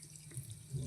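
Tap water runs into a vessel while a traditional Mangalore-style Malabar spinach curry is prepared, a short, faint, steady splashing flow with no voices.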